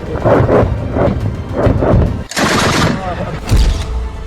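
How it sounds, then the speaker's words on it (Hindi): Anti-aircraft guns fire during an air strike on Kabul, sounding as loud, rapid, continuous bursts of booming shots with a sharp crack partway through, under heavy overlapping noise. "हमला होते ही अफगानिस्तान की एंटी एयरक्राफ्ट गनें एक्टिव हो गईं और लगातार फायरिंग होती रही।"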